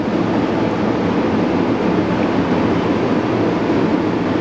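A Monarch 22.5 x 96 lathe runs with its spindle at 121 RPM, giving a loud, steady broadband mechanical roar that holds unchanged throughout.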